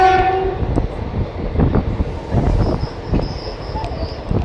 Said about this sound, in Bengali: ট্রেন বাজার সৌ স্টেশন পৌঁছে গেছে